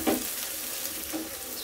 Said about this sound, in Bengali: চাউলগুলোকে ভেজে নিব। আর দিয়ে দিচ্ছি গাজর কুচি।